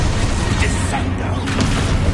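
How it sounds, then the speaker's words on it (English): A Descendo spell cast in Hogwarts Legacy, heard as a dense booming slam and rumbling impact that fills the short moment with loud, continuous noise. "Descendo!"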